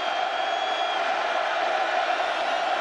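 A stadium crowd at a Boise State at Oregon college football game roars in a dense, continuous wall of cheering that holds steady and loud throughout.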